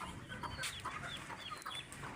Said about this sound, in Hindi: ये मुर्गा तो बाहर खड़ा हुआ है लेकिन मुर्गियाँ वो नीचे बैठी हुई हैं